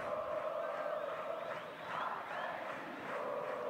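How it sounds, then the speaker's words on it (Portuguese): Football crowd at an Atlético Goianiense versus Goianésia match in the Goianão 2024 championship, chanting for Atlético in a broad, distant, sustained roar. "Aí a torcida canta Atlético, Atlético."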